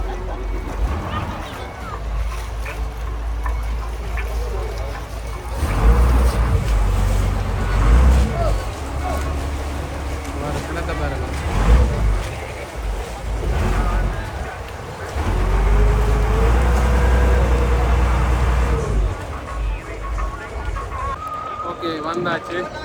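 A passenger boat ride to Nainativu island, with a steady engine drone and water wash throughout, rising and falling in loudness, while someone talks over the noise.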